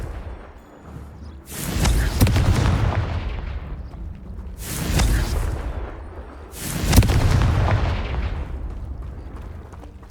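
Confringo explosive spell blasts in Hogwarts Legacy, three loud booming bursts spaced a few seconds apart, each with a sharp crackling onset and a rumbling tail over a constant game background.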